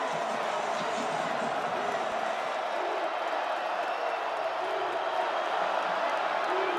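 A large college football stadium crowd roars on a third-and-19 play between Southern Miss and Georgia Southern, a dense, steady wall of noise with a commentator's voice faintly mixed in.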